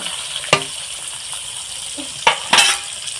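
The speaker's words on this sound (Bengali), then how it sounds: "দেখুন কত সুন্দর ভালোভাবে ভাজা যাচ্ছে" Pieces of fresh katla fish frying in oil in a pan, a soft steady sizzle broken by a few sharp clinks and spatters from a utensil.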